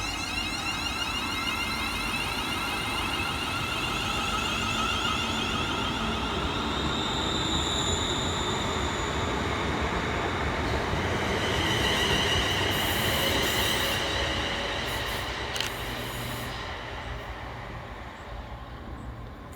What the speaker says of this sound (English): Next out to depart will be 380-116, working the 1612 Scotrail service from Glasgow Central through to Neilston.